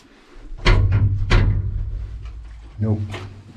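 A locked door's handle is rattled and the door is tugged a few times with dull thuds, clearly not opening, up close.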